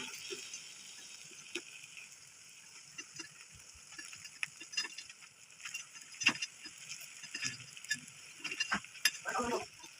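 White kuzhi paniyaram being flipped over in the pan, heard as soft scattered scraping taps and light clicks over a faint, steady hiss, quiet and close.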